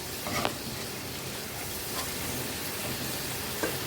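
Cumin and green chili paste sautéing in a pan: a broad, continuous sizzle with a few soft spoon scrapes, fairly faint and without voices.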